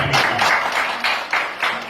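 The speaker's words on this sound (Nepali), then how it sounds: "जोरदार ताली बजाइदिउँ न" Applause from a crowd at a ministry school graduation ceremony, steady clapping that swells in several waves over about two seconds, close and fairly loud with no talking.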